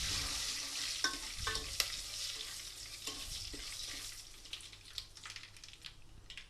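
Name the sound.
garlic, cumin, dry chilies and curry leaves frying in oil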